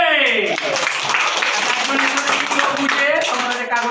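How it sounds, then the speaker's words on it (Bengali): Primary school children clapping their hands at a Mother Language Day magic show, a fairly loud, busy patter of claps mixed with young voices calling out over it. "হাততালি।"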